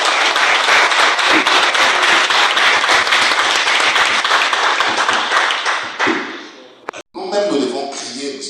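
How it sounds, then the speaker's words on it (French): Audience applause at a jazz celebration at the U.S. embassy in Kinshasa, loud sustained clapping from a crowd for about six seconds. It fades out, breaks off briefly, then is followed by a voice. "Donc je voudrais qu'on applaudisse quand même Gabi."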